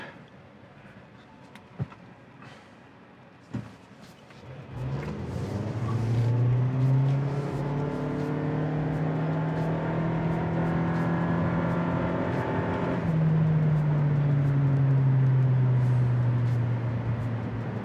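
A Toyota Prius accelerating hard from a standstill toward 60 mph, heard from inside the car: a quiet hum first, then a loud, steadily rising engine drone that holds and climbs for over ten seconds before briefly easing.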